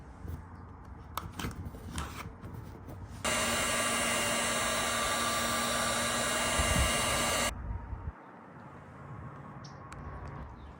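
A heat gun blows steadily for about four seconds, shrinking heat shrink tubing over a socket on a DRL T-harness for 1999–2007 GM trucks; the loud, even airflow drone stands apart from quieter handling noises before and after.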